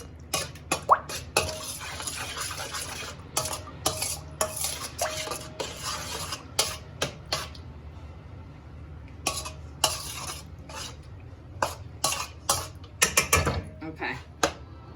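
A spoon stirs tomato sauce into chicken stew in a metal pot, giving repeated clinking and scraping knocks in uneven bursts, close and fairly loud, with a quiet pause midway.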